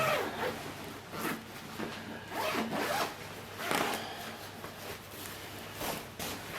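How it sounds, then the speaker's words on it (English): A detachable quilted winter lining is unzipped from inside an RS Taichi T-Dry motorcycle jacket, a close, continuous zipper rasp with uneven pulls lasting several seconds. "See, the held has got this interior quilt here, and you can just unzip it."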